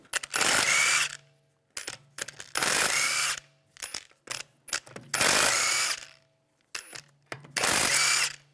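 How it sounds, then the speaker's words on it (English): Impact wrench with a 17mm socket spinning lug bolts off the rear wheel of a 2009-2013 BMW 328i xDrive: four loud, one-second rattling bursts, close up, separated by short clicks and handling noises, with no talk. "I'm going to remove the wheel, use a 17mm socket, take the lug bolts out."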